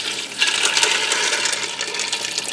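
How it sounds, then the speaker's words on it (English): Water pours steadily into a Ninja Foodi pot over dry pasta, a continuous bright splashing rush filling the whole stretch, close and fairly loud with no talking. "Now I'm going to add some water in,"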